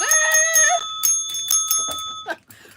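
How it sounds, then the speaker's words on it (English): A bicycle-style bell rings repeatedly in quick bursts, bright and close, with a couple of sharper strikes toward the end, during a live chat stream. "Ring that bell."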